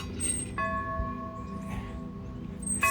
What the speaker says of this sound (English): Bells still work.